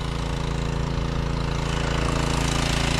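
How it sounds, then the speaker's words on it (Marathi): A motor pump runs steadily beside a river during fishing, its engine chugging in a fast, even pulse that stays loud and continuous throughout. "आपली मशीन बसले सावळीला, मोटर चालू करून"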